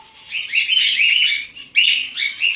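Pigeons call in a flock, loud and close: bright, warbling chirps and squawks in two bursts with a short pause between, no talking over them.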